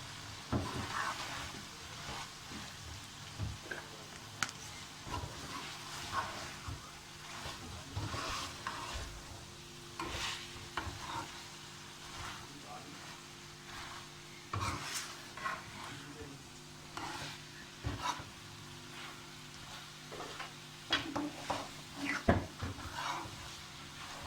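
Chicken being stirred in a pan as bell peppers (shimla mirch) are added for a spicy salan, with a steady soft sizzle and repeated scraping stirs across the whole stretch.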